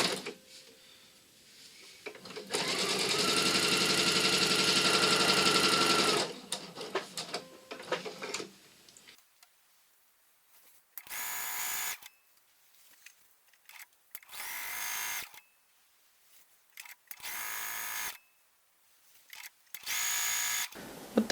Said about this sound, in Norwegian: Og så syr du sammen akkurat som vi har gjort før.